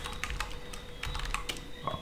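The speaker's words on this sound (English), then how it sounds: "I'm gonna type in" Fingers tap out text on a computer keyboard in a quick, uneven run of close, crisp keystrokes over a faint steady background hum, with no talking.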